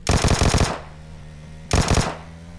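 Vector submachine gun firing in PUBG Mobile, two quick rapid bursts of several shots each, separated by a short pause, loud and close with ringing tails.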